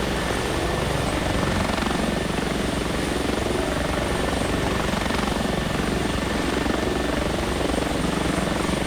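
Simulated H145 rescue helicopter in flight in X-Plane 11, a dense continuous rotor and turbine roar, loud and steady throughout with no voices.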